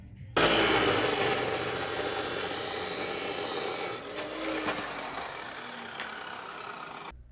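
A small wooden nub is cut down to form a spacer for a handmade grappling knife. It makes a steady, close, rasping cutting noise that runs unbroken for about seven seconds and eases slightly toward the end.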